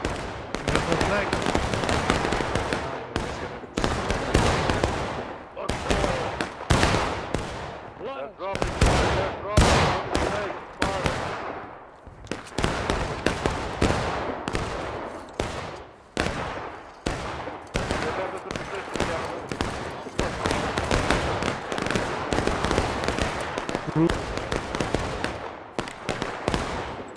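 Rapid, overlapping musket and rifle gunfire crackles through a War of Rights historical rules battle, with sharp bursts coming in dense volleys and scattered single shots, near and far, while players talk over it.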